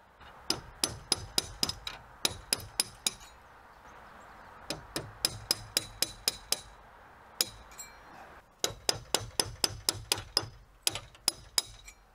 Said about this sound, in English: I could tap the lead down flat to the roof.